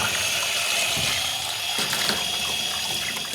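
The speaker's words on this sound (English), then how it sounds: "So start off by rinsing that through under the tap" Steady running tap water pours over parts of a fence and decking paint sprayer being rinsed in a sink, a continuous close hiss and splash with no pauses.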